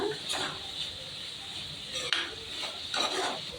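Ridge gourd curry being stirred in a pan, with steady scraping swishes of a spoon against metal over a soft background sizzle, close and moderately quiet, with no talking.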